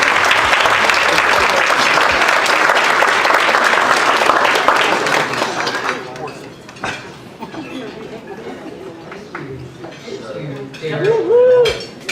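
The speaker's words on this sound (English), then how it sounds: "Let's give her a big round of applause." Audience applause at an awards ceremony, a loud dense burst of clapping that tapers off midway into scattered claps and room murmur, with a voice briefly heard near the end.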